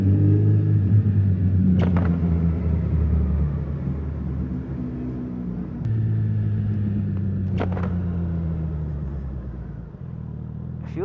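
A Ducati motorcycle engine pulls in first gear on a motorway with a loud, continuous close-up rumble whose pitch shifts as it accelerates, plus a couple of brief sharper noises, and nobody speaks.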